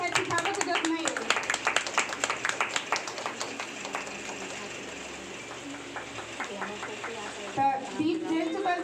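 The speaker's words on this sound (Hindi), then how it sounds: "सब अपन दुनू हाथ से ताली बजाओ" An audience at a ceremony claps in a dense burst of many hands that fades to scattered claps, then rises again briefly, with a voice speaking over part of it.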